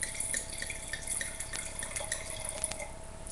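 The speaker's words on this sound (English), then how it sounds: "So I'm going to start by pouring a little bit in" Chardonnay poured from a bottle into a wine glass, a light continuous trickle with small splashing glugs, close and fairly quiet, with no talking over it.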